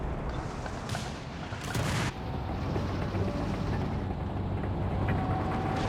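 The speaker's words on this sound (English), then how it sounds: "Base howitzer fire coming in." Base howitzer artillery fire in the World War II strategy game Company of Heroes 3, heavy rumbling blasts and booms over continuous battle noise, with sharp impacts near the start and middle.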